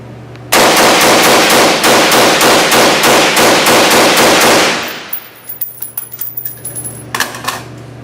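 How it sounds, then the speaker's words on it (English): An FN SCAR 16 rifle fed from an FN magazine fires a fast, loud, continuous burst of about fifteen rounds at an outdoor range, followed by scattered lighter metallic clinks and softer noises. "We'll just fire 15 rounds there real quick, just to show you the reliability of the gun."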